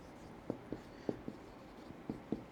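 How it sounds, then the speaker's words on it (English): Handwriting strokes scratch across a surface in a run of about nine short, distinct marks at an uneven pace, close and fairly quiet, with no voice. "Let's write,"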